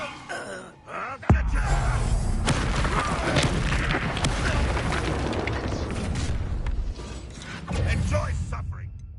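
A fire spell blasts in the Hogwarts Legacy video game: a sudden loud burst whose dense, roaring rumble sustains for several seconds and swells again near the end, with a little game voice mixed in.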